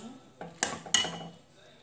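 Macaroni transferred from a pot onto a plate, with a few light metallic clinks and scrapes of utensils against cookware, close and brief in a quiet kitchen.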